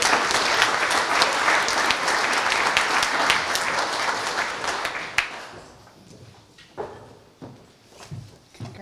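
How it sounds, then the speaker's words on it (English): Graduation ceremony crowd applauding graduates, a loud dense burst of many hands clapping that fades after about five seconds, leaving scattered claps, shuffling and footsteps in a quieter hall. "if you guys would all give them another round of applause"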